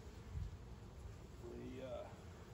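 Honey bees hum in a low, steady drone close by around an open hive, with a voice talking faintly underneath.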